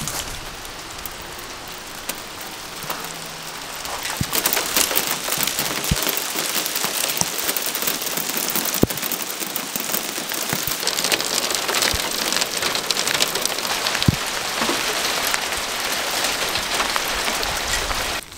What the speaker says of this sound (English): It's just started hailing as well.